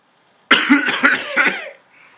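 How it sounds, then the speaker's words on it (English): A single burst of harsh, rasping coughing, several rapid hacks run together, close and loud, then fading out. "coughs in pain"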